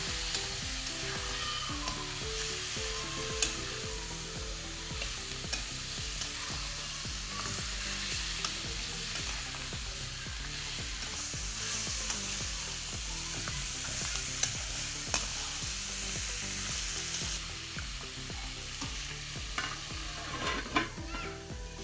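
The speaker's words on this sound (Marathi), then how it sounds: "आता यात आपण पाया टाकून देऊ आणि चांगलं मिक्स करून घेऊ" Mutton trotters (paya) stirred in a pot for soup, a steady close scraping and clattering of a spoon over a continuous sizzle for about twenty seconds, with no one talking.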